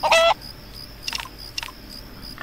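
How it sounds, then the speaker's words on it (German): Chickens in the video game Craft the World give a loud, sharp squawk, followed by a few softer clucks and chatter over steady ambient game background. "Da oben gackert was."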